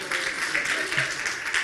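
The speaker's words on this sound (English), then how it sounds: "Little applause for at least one of them." Brief, fairly quiet applause from a press conference audience for a Googler, a light patter of clapping lasting under two seconds.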